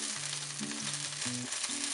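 A fresh batch of corn and pea fritters fries in a skillet on the stove, making a steady, even, close sizzle that carries on alone without speech.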